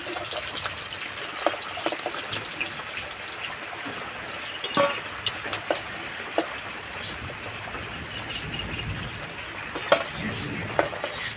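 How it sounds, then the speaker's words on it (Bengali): Flour-and-milk snacks fry in a pan with a moderate, even sizzle, punctuated by scattered sharp clicks and light utensil taps. "বাকিগুলো ভেজে নেব"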